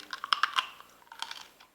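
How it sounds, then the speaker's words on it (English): Close-up chewing of buttery Dungeness crab meat from a Cajun crab boil. Soft, rapid crunchy bites come in a quick cluster, then a lighter second flurry, with no talking. "Barely have to chew when I eat it."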